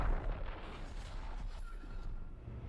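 A deep, rumbling blast as a Geth ship explodes in Mass Effect 3, heaviest at the start and then fading into a low, sustained roar.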